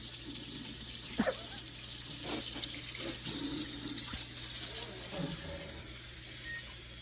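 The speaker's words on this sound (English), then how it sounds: "I'm gonna get some hot water and see what happens" Hot water runs steadily from a tap into a kitchen sink, a continuous close hiss and splash with a few faint knocks of dishes, and no talking.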